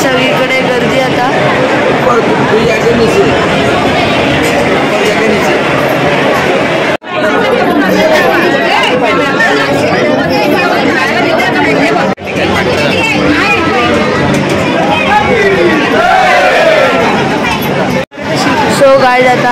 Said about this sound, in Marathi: सगळीकडे गर्दी